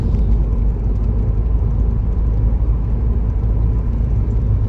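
Steady, close rumble of a car driving along a quiet road with no traffic on a leisurely Sunday drive, a continuous low engine and road drone holding level throughout with no talk.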